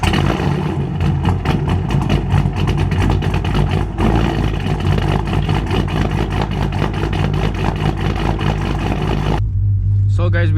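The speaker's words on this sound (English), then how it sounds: "I am gonna get y'all started up on the Charger" Dodge Charger engine running loud and close, a continuous dense rumble with rapid pulsing across the whole stretch, dropping to a quieter low idle at the end.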